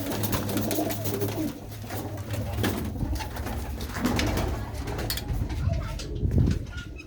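Several fancier's pigeons at a village fair keep up low, rolling coos that overlap near at hand, with crowd murmur and scattered noises mixed in throughout.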